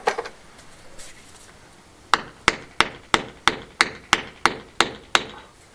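Ten sharp, evenly spaced hammer blows on stone ring out close by, each a crisp metallic crack, after a few seconds of quieter shuffling.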